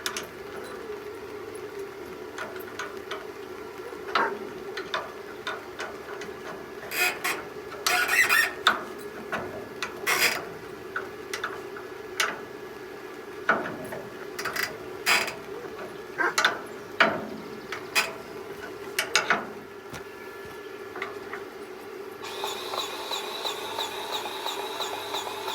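A grease gun pumps grease into the hinge of a dump trailer gate, giving faint, scattered clicks and squeaky strokes at close range over a steady low background hum, with no talking.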